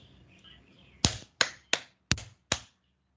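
Five sharp, distinct hand claps ring out after a second of quiet background, spaced unevenly and close to the microphone.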